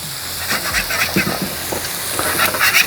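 Food sizzles and fries steadily on a Vevor 21-inch commercial electric griddle, a continuous close crackle with light stirring or scraping textures, no talk.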